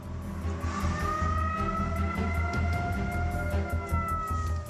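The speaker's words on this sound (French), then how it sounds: "T'entends les sirènes?" Army alert sirens in Fukushima before a tsunami wail continuously with steady rising and falling tones, sounding distant over a low rumbling background.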